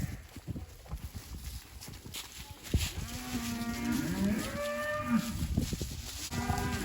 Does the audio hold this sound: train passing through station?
no